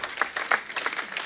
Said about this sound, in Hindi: जैकी सर के लिए जोरदार तालियां।